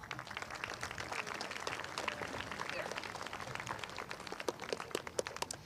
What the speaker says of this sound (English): please show our appreciation for her with a round of applause